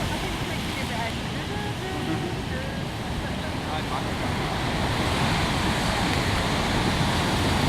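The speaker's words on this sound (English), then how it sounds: "watching the waves roll in and crashing on the shore" Atlantic waves roll in and crash on a Lanzarote shore, a loud continuous roar of surf with wind buffeting the microphone throughout.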